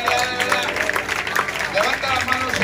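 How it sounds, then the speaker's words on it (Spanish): A Pentecostal church congregation applauding, dense, continuous clapping filling the room with crowd noise, while a voice talks over it. "Cuando le damos un aplauso a Cristo en esta hora"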